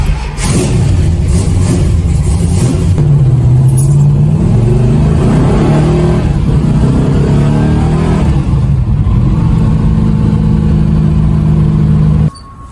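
A 341 DeSoto Hemi engine runs loud and close, its rumble rising and falling through several revs before cutting off abruptly at the end.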